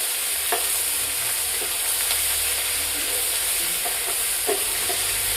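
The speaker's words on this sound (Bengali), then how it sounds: "রসুন বাটা, পেঁয়াজ বাটা দিয়ে ভালো করে নাড়াচাড়া করে কড়াইয়ে তেলটা ভালো করে নাড়াচাড়া করতে হবে" Garlic and onion paste being stirred in hot oil in a wok: a dense, loud, continuous sizzle with scattered scraping strokes of the spatula throughout.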